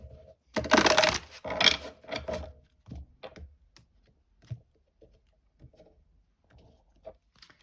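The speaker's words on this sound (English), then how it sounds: "Okay, one last shuffle." Tarot cards being shuffled by hand for a reading, a burst of crisp riffling and flapping at the start followed by lighter scattered taps and card contacts, with no talking.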